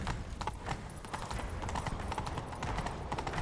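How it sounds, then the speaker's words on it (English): Galloping horse hooves in The Witcher 3: Wild Hunt pound out a fast, steady clip-clop rhythm at close range, with no talk over them. "Grab a horse, we'll chase him down."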